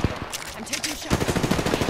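Gunfire in a shooter video game crackles in rapid, rattling bursts, with a brief lull before a fresh barrage. The firing is moderately loud, with clattering action noise between the shots.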